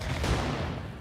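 Cannons in the It Takes Two war zone firing a brief, muffled, booming volley of dull rumbling blasts, fairly distant, with no voices.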